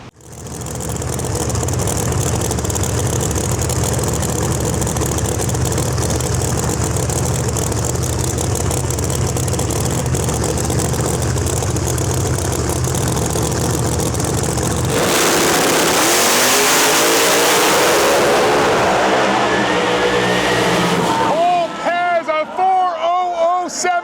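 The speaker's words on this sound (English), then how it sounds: "That was a drag race." Drag racing cars at a high-speed event hitting about 200 mph, their engines roaring loud and continuous down the strip for some fifteen seconds, then shifting into a rising whine and revving tail as the run ends.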